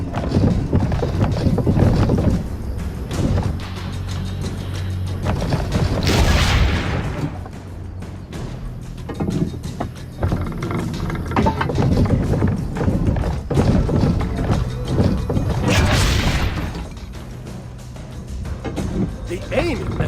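Cannon fire in Assassin's Creed: Brotherhood: two heavy booming blasts several seconds apart, ringing out over a dense game soundscape with speech.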